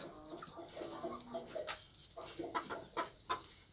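A rooster of pure Kashmiri breed clucks in a series of short, faint calls spaced irregularly, quiet and somewhat distant with no talking.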